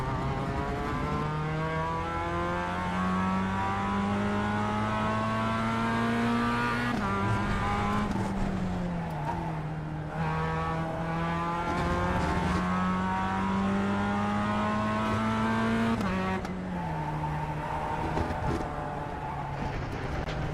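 A Formula 1 car's engine screams steadily at high revs around the Suzuka circuit in a racing video game, its pitch dipping and climbing through gear changes with faint tire squeal, loud and continuous with no talking.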